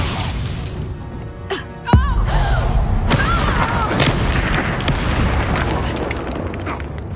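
Confringo blasting spell in Hogwarts Legacy, a sudden loud explosive boom in the middle of a combat clash, followed by a dense, rumbling wash of fight noise and a few sharp cracks.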